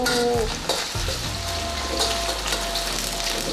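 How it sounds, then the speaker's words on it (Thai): Shiitake mushrooms stir-frying in a pan with ginger, a steady loud sizzle with scraping stirs near the start, continuous and close with no talk. "คั่วให้เห็ดหอมมันเกรียมนิดนึงนะคะ"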